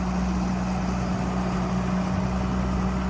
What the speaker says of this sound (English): Fires up good and strong, guys. Cummins diesel motor.